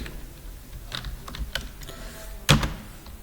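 Computer keys are pressed in a few irregular clicks and taps over steady room hiss, ending in one louder thunk of a key press, close and fairly clear.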